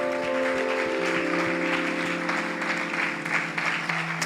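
A church congregation applauding at the close of a sermon, a steady wash of clapping that fills the space, with organ or keyboard tones sustained underneath throughout.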